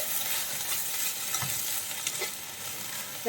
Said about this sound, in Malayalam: നമുക്കിനി ഒന്ന് ഇളക്കി കൊടുക്കും